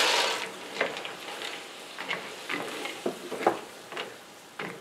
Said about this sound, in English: We're going to cook this down until the liquid is mostly evaporated and the almonds will start to get a sugary coating to them.